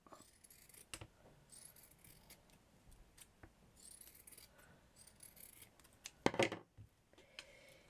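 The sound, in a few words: scissors cutting a circle out of felt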